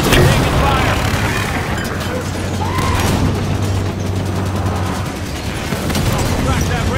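Gunfire and explosions fill a Halo 5 campaign battle as a dense, continuous barrage of shots and booms, with voices speaking over the combat.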